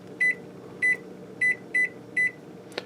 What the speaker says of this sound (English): I'm going to put this in the microwave on high power for 20 minutes